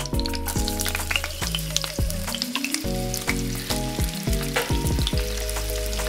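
Bell pepper sizzling in oil in a frying pan, a steady dense crackle throughout with occasional stirring, while sustained background music plays underneath.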